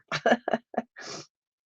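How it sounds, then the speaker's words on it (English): A person sneezes close to the microphone: a few quick, voiced catching breaths build up, then a single breathy burst lets go and the clip falls silent. "I think the sneezing is done. If it happens again, I'm sorry."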